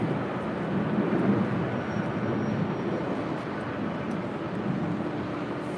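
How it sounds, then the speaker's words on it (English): A Delta Boeing 757-200 airliner, once flown by Northwest Airlines, departs LAX for Boston, its engines a steady, broad jet roar that holds at a loud level throughout with no talk over it. "It's followed by Delta Airlines Flight 2673 heading to Boston in a 757-200"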